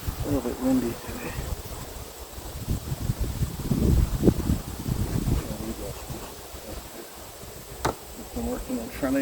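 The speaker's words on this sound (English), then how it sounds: "A little bit windy today." Wind gusts buffet the microphone outdoors near beehives, low rumbling bursts rising and falling under a faint insect buzz, with someone talking quietly in places.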